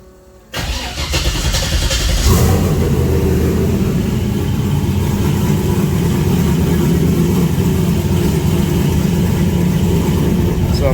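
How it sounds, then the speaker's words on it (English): A Ford Mustang Fox Body engine cranks and catches, then settles into a loud, steady running drone with throaty low rumble that stays close and constant, no voices over it. "But the car does run."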